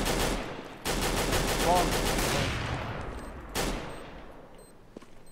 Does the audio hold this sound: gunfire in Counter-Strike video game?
yes